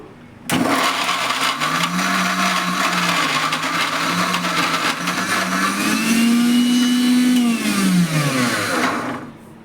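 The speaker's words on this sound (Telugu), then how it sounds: "ఇలా మొత్తం వేసుకొని మనం ఇప్పుడు మిక్సీ పట్టేసుకుందాం" A mixer grinder blends ginger and garlic into paste, switching on abruptly and then whirring steadily and loudly. Its motor pitch climbs then dips near the end before it cuts off.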